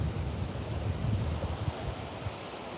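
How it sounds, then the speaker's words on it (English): Strong wind roaring against a microphone at a Melbourne beach, with steady heavy surf rumbling beneath in a continuous, loud low wash. "the wind is pumping. I hope this microphone filter thing covers the wind"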